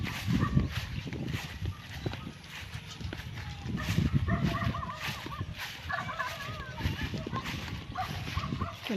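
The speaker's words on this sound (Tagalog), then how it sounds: "Doon na naririnig ko na yung mga aso." Many dogs bark outdoors on a rural path while wood is being hauled, several overlapping barks near and farther off, mixed with footsteps or hoof-like clopping and a voice talking over them.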